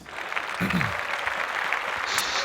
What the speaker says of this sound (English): Like those claps, Darren.